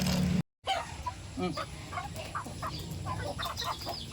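Chickens cluck softly in scattered bursts while feeding in the countryside, amid faint background noise, after a brief moment of silence near the start.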